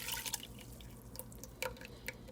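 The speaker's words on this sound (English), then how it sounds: "we're going to take my flour and broth mixture and add that in" A flour and broth mixture is poured into a pot of homemade broccoli soup, making faint, uneven liquid splashes and drips close by.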